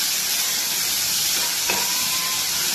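Prawns fry in mustard oil, marinated with turmeric and salt, giving a loud, steady sizzle and hiss with a single sharp pop partway through.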